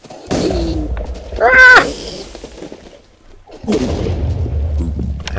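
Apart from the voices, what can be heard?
throwable dynamite exploding in Minecraft Balkans weapons mod, video game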